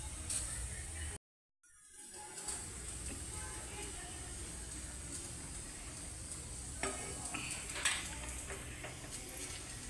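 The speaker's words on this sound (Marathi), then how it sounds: "आता आपण याला कढईमध्ये तेल ठेवून फोडणी देऊ।" Oil heats in a kadhai (wok) for tempering stuffed brinjals, giving a steady low sizzle with occasional light clicks of a utensil against the pan.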